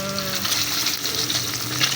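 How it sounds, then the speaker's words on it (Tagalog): Tilapia frying in a pan of hot oil, a steady close crackling sizzle with bursts of popping throughout. "Patapusin ko to yung prito ko bago ako kumain."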